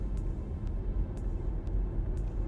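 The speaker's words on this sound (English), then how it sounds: "Well, they're electric vehicles, which typically sound like this." An electric car drives past with a steady low rumble and road noise, a continuous mid-level hum from tyres and motion with faint periodic high ticks, no combustion engine note.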